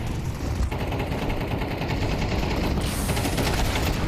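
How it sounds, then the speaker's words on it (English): Rapid automatic gunfire from the video game Counter-Strike during an esports match: dense, continuous bursts of shots that run for several seconds at a loud, even level with no speech. "But as we do see shots ring on through with Timing Gazal starting things off."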